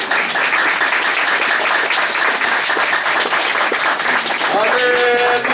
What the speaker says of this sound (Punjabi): ਮੈਂ ਚਾਹੁੰਦਾ ਹਾਂ ਜ਼ੋਰਦਾਰ ਤਾੜੀਆਂ